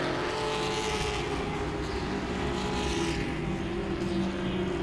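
Grand stock cars race around Langley Speedway through turns 3 and 4, a steady loud roar of engines sustained throughout with no breaks, as of cars running close together on the track.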